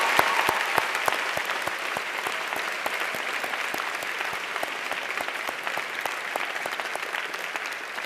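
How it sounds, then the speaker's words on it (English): An audience at a 2014 high school commencement ceremony applauds teachers, counselors and parents: steady, even clapping from many hands in a large hall, a few sharper close claps standing out, sustained at moderate volume with no voices. "I ask that you offer a round of applause for our teachers,"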